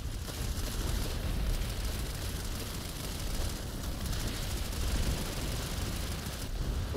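Enemy gunfire during a PlanetSide 2 video game battle: a dense, continuous roar of shots and explosions that stays loud and steady throughout, with no pauses.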